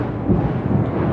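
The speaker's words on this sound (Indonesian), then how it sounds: "Dan ada geledek besar tiba-tiba." A sudden loud thunderclap rumbles low and heavy for about a second, filling the space with a deep roll and no voices over it.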